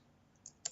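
Two faint, sharp mouse clicks a fraction of a second apart on a quiet computer desk, the second crisper and louder than the first.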